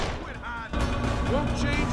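Dense, rumbling bursts of explosions and gunfire from a boss fight in the video game Deus Ex: Human Revolution fill the clip, with a sharp louder blast partway through and a steady low boom underneath.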